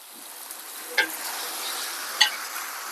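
Chicken being stirred and fried in a pan for kappa (tapioca) biryani, a steady sizzle broken by two sharp scrapes of the spoon against the pan, close and clear with no talking.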